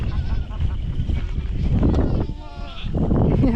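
Several goats bleat in a busy outdoor pen, their calls overlapping amid rustling and background noise while a person talks nearby.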